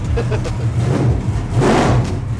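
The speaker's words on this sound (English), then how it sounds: "if I press that gas pedal right now, I can't even hear myself think" A race car engine, parked and out of gear, rumbles loudly at close range in a deep, throbbing drone that swells with a short rev toward the end.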